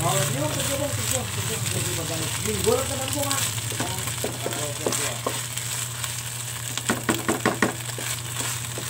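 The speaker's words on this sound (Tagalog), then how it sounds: "mix natin ulit kasi mas masarap kapag yung kanyang vinegar ay lutong luto" Sautéed shrimp paste (bagoong alamang) cooked down with vinegar sizzles steadily in a pan while a spoon stirs and scrapes, with a few sharp clatters near the end; a person talks over the first half.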